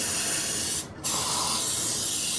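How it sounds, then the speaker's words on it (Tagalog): Steady broadband hiss of a water sprayer hosing down a very dirty Yamaha MT-03 motorcycle during a wash, continuous and close, with one brief drop in the middle. "kailangan natin yung spray yan"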